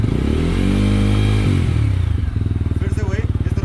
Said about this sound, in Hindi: ये देखो आरपीएम सीधे 5000 बढ़े ही जा रहे हैं, बढ़े ही जा रहे हैं।